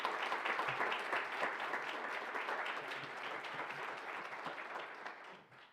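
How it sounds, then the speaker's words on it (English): Audience applause honoring long-serving hospital team members at a hospital's 200th anniversary event, a steady dense wash of many hands clapping at moderate distance that holds evenly and then fades away at the end. "Can we give them another round of applause?"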